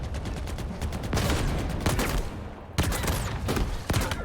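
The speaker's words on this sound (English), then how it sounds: "some of the gunshot noises sound like the ones from Halo 5" Rapid gunfire from the shooter game Halo Infinite, a steady stream of shots and bursts with sharp louder cracks, heard alone over a dense mix of game sound.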